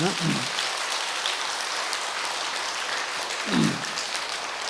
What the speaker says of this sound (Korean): 스님들에게 박수 한번 부탁합니다.